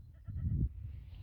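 A five-month-old male goat lets out a single short, close bleat over low rustling background noise, with no talking.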